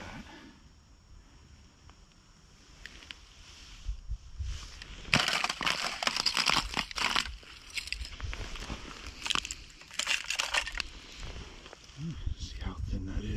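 Thin ice crunching and cracking underfoot on a woodland trail in Canton, Maine, with repeated close, loud crackling steps in bursts over faint background and occasional talk.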